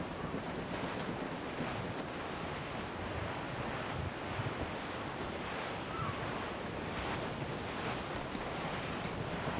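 In Assassin's Creed IV: Black Flag, wind rushes and ocean waves wash in a continuous, dense roar, with no voices, the surf swelling and easing throughout.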